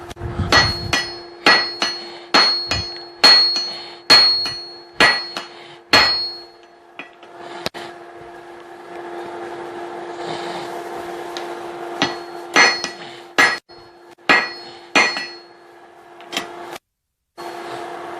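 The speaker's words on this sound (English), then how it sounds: "Time to upgrade to the bigger hammer." Sharp, ringing hammer blows on an anvil while forging a hammer eye punch, struck in steady runs of rapid strikes with short pauses between bursts, close and loud.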